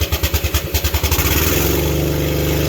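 A manlift engine cranks with choke held down, rapid rhythmic starter pulses catching within about a second and settling into a steady close, loud idle.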